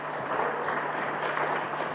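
Audience applause at a political announcement by a national deputy, a steady, moderately faint wash of clapping that holds evenly throughout with no voices over it.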